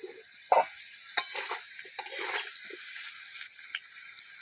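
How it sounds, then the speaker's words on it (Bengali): Potatoes frying with a little salt in a covered pan: a soft, steady sizzle with occasional light clatter and stirring sounds, fairly faint and close. "2 থেকে 3 মিনিট ঢাকা দিয়ে আলুটাকে ভেজে নেব।"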